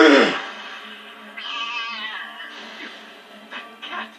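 A cat lets out a loud, drawn-out meow, followed by a few shorter, fainter mewing cries.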